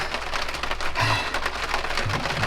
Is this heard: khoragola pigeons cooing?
no